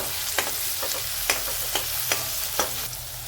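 Coarsely pounded garlic sautéing in a pan for a tinda vegetable dish: a steady soft sizzle with a spatula scraping and clicking against the pan at irregular intervals, no talking.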